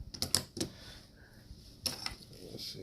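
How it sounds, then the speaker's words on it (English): Old speaker wire cutters snip wire one-handed during an LED lighting upgrade, giving a few quick, close metallic clicks and snaps early on and another sharp snip later, separated by quiet. "Kind of hard to cut with one hand. Those are actually speaker wire cutters."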